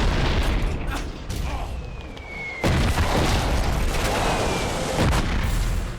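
Body-launched explosion ability in the action game Too Human, heard as a loud booming burst with a sharp onset midway, followed by sustained rumbling blast noise and scattered impacts.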